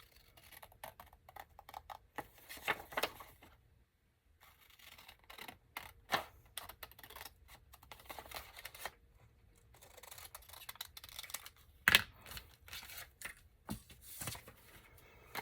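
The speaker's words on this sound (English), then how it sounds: "Let's just get our scissors here and we'll finish cutting this real quick" Scissors snip through paper during a craft project, a series of faint, short crisp cuts spaced irregularly across a quiet room, with occasional sharper clicks and rustles.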